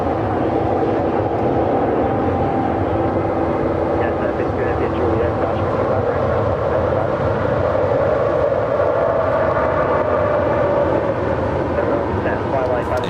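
An airliner taking its takeoff roll on runway 25 left at Los Angeles International Airport, a loud, steady jet roar with a rising whine, continuous under a commentator's voice.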